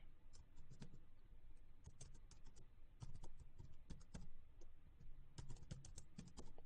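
Quiet, steady typing on a computer keyboard, with irregular bursts of key clicks and short pauses between them.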